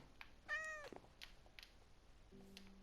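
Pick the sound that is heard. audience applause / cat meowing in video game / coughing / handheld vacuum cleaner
cat meowing in video game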